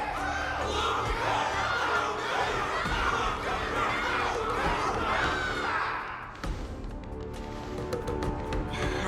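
Massed cheering from a Honkai: Star Rail tournament crowd, loud and sustained with overlapping shouts for about six seconds, then dropping abruptly to quieter ambience with a few scattered knocks.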